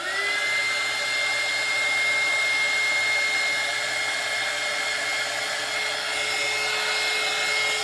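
Hair dryer blowing steadily on a painted doll, a loud continuous whooshing drone with a faint high whine, close and unbroken throughout with no talking.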